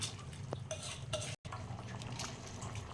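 Rice is stirred in a pot of chicken dum biryani, a steady scraping and clinking of a spoon against the vessel with soft shuffling of grains, close and continuous apart from one brief break.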